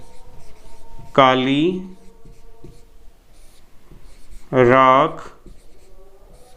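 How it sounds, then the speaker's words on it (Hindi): Someone writes during a chemistry lesson on preparing sodium carbonate. Faint scratchy strokes run continuously in the background, and someone speaks briefly twice over them. "तो हम यहां लिखते हैं"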